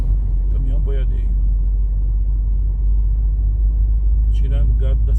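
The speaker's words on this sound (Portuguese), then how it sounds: "Isso aí é um boiadeiro, esse caminhão aí. Caminhão boiadeiro." Cattle truck hauling livestock along the BR 010/GO 118 highway in Goiás, its steady low rumble rolling past close by, with people talking briefly at the start and end.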